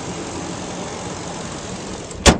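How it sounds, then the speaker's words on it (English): A 2008 Nissan Titan PRO-4X crew cab pickup with an E85-compatible engine idles smoothly, giving a steady, even low hum. A brief sharp knock or click sounds near the end. "the engine bay is very clean, runs very smooth"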